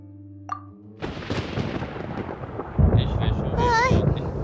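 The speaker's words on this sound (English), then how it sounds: "Paimon hears thunder!" Thunder rumbles in the Genshin Impact video game, a deep, rolling boom that kicks in after a short quiet moment and swells louder toward the end, mixed with game sound effects and a brief voice.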